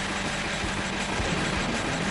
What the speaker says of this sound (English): Oh look, it's a train.